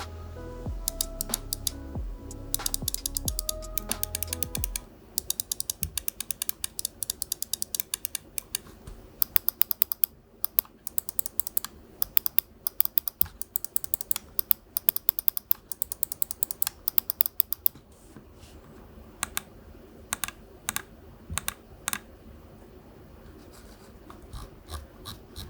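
Razer DeathAdder V2 Mini mouse buttons clicking close up: a fast irregular run of sharp, crisp clicks, dense at first over faint background tones, then sparser individual clicks, with no speech.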